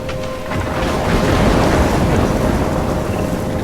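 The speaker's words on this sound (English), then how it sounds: "I'm trapped in a storm?" A thunderstorm in the video game Life Is Strange rumbles continuously with heavy rain and wind, a loud, dense roar that swells slightly midway and holds steady throughout.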